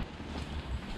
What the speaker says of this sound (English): It's aggressively raining. It's aggressively windy.